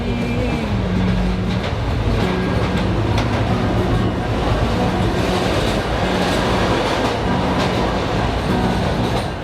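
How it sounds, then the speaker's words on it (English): A train rumbles steadily along the rails with rhythmic clacking, a continuous loud rolling noise throughout. "As the train rumbled through the night"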